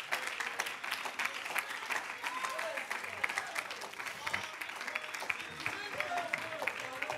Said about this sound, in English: clap your hands unto the Lord today